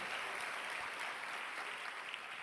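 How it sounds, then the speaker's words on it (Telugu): Church congregation clapping together during a Telugu Christian sermon, a dense, steady wash of many hands that stays faint and distant for the whole stretch, with no voices. "గట్టిగా చప్పట్లు కొట్టి ప్రభును మహిమపడదాం."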